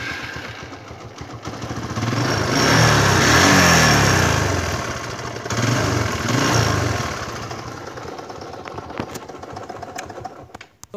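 A TVS Apache RTR 150cc motorcycle idles steadily nearby, its mid-pitched engine throbbing, swelling briefly with a couple of throttle blips before easing back to a rough, even idle, with no talking.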